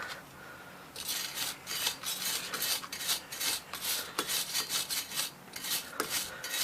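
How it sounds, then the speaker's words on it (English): A wire brush scrubs back and forth over a fresh weld on a Gravely electric start cart, giving a steady run of close, loud rasping strokes after a quiet first second. "There's my wire brush."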